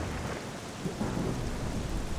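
Rain and thunder in Zelda: Twilight Princess form a steady rushing downpour with a deep rolling rumble beneath, moderately quiet and with no talk.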